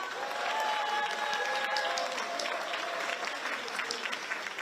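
A hall full of National Assembly members applauds to open a workshop, sustained close clapping filling the room at steady volume with faint murmurs and tonal hums beneath.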